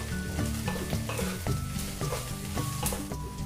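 Chopped onion, green chilli and capsicum fry over low heat with a steady sizzle, broken by regular stirring scrapes for a few seconds; no one speaks.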